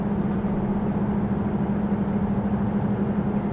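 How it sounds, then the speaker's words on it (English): Ural 6464 truck with a turbo engine in Euro Truck Simulator 2, a steady loud droning hum with a thin high turbo whine running constantly over it, alone without talk. "The engine audio, it's very whiny with that turbo engine."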